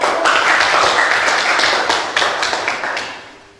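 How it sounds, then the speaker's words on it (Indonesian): Classmates clap for a group that has just presented in a classroom session: loud, close, dense clapping from a roomful of hands that holds steady, then tapers off and fades out at the end. "Kita berikan tepuk tangan"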